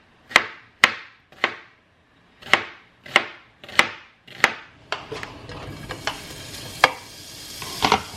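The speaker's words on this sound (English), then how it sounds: "I'm also going to cut my onion" A knife chops an onion on a cutting board in about eight sharp, evenly spaced strokes, then gives way to softer, quicker cuts and scraping over a low background hiss.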